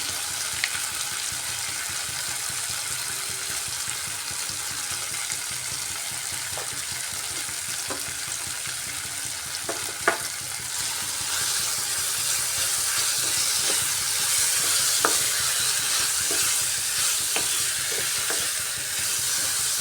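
Soybeans frying in a pan with Kashmiri red chili powder, a dish made with paneer, give a steady, close sizzle and hiss throughout, broken by small scraping ticks from stirring. No one speaks.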